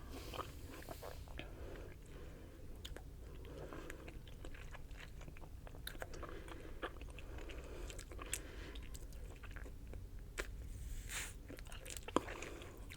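Bubble gum is chewed close to the microphone in a quiet, intimate setting, giving soft, irregular wet clicks and smacks that continue throughout.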